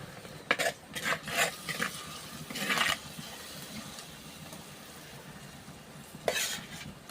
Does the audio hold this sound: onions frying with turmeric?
yes